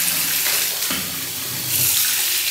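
Water runs from a tap into a bath in a Dubai hotel room, a steady broadband rushing that swells slightly partway through, close and continuous with no talking.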